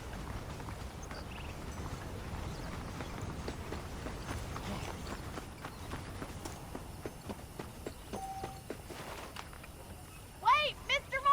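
Horse hooves clip-clop steadily at a walking pace under game ambience in Red Dead Redemption, with a brief voice near the end.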